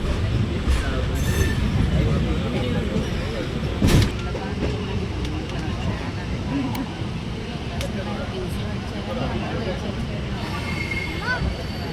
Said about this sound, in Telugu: ఇప్పుడు రాజమండ్రి రైల్వే స్టేషన్ మనం వెళ్తున్నాము